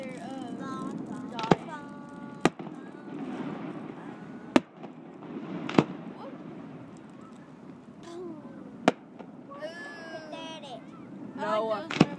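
Christmas festival fireworks at Lake Arthur, Louisiana burst in a handful of sharp, well-spaced bangs, with whistling crackle and rumble between them. Voices of children and adults chatter throughout, and the bangs sound moderately distant.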